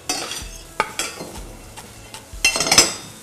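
Stir-frying in a pan with no oil: utensils scrape and clink against the pan in irregular strokes over a light sizzle, with a busier flurry of scraping near the end.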